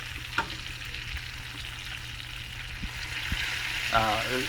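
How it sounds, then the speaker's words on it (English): Bacon sizzles in a T-fal nonstick pan, a steady moderate frying crackle with a few soft pops and a brief scrape near the end, no one speaking. "bacon is just cooking nicely"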